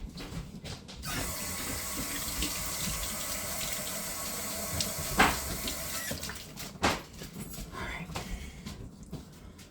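Water from a kitchen tap runs steadily for about five seconds while hands are washed, a soft hiss with small splashes and clatter, faint and close, with low talk in the background.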